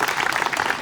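Enthusiastic audience applause at a Hindi poetry gathering welcoming Dr. Arifa Shabnam, with a dense, steady roar of many hands clapping close by and no talking.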